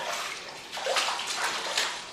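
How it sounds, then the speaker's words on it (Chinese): Water splashing and sloshing as a blanched cow head is rinsed again in a basin, short wet bursts over a few seconds, close and fairly soft, with no talking. "烫好的牛头再次清洗一遍"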